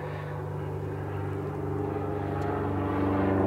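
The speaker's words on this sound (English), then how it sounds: "I think I'll wait a minute till that plane goes over." Airplane passing overhead outdoors, a low steady engine drone with tonal hum that slowly grows louder as it approaches, heard alone without talk.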